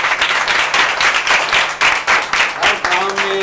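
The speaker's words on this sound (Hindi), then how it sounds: "क्लैपिंग इनके लिए बहुत सारी तालियां" Clapping at a youth center program gathering, loud bursts of hands in pulsing waves with voices talking over it near the end.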